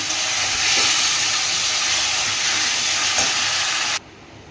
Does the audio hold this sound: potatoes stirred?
yes